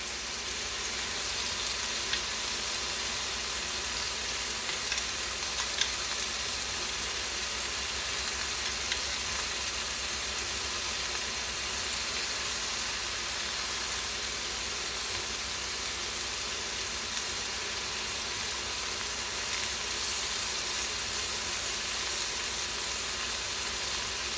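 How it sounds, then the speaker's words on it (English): Supper cooking in a pan in a home kitchen, a steady broadband sizzle and hiss that holds evenly throughout, with a few faint clinks and no talking. "Nothing like good food, good smelling food cooking in the kitchen."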